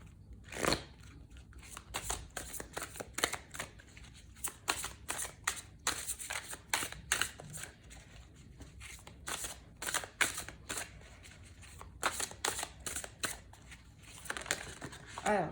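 Tarot cards are shuffled up close in a steady run of quick, crisp riffling and flicking bursts that continue throughout, with light rustling between them.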